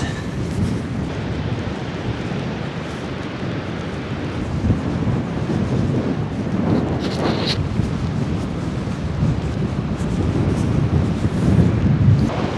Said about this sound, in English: I'm out in the rain and the wind, investigating the Ayrshire coast.